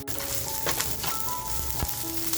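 Cumin seeds sizzle in hot oil in a pan over a high flame, a soft, steady crackling hiss with a few faint pops, quiet and continuous with no voices.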